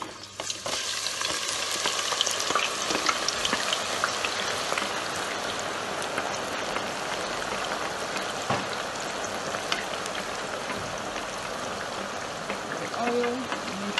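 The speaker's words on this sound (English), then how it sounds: "I'm adding the onions." Chopped onions sizzle and crackle in hot oil in a pan for a tomato beef stew. The frying hiss runs steady and moderately soft for the whole stretch, with occasional stirring clicks.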